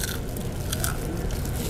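Crispy fried skin from a roadside satay stall is bitten and chewed close up, giving dense, steady crunching and crackling with no talking.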